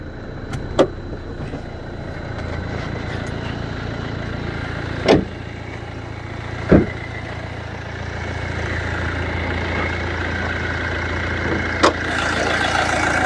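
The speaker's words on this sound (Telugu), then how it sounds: "ఇంజన్ బీటింగ్ కూడా చూడండి, సైలెంట్గా ఉంది" A Hyundai i20 Magna diesel engine idles steadily with a low, even hum, joined by a few sharp clicks and a brief rise near the end.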